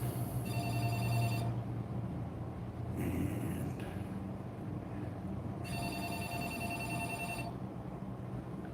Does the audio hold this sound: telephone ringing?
yes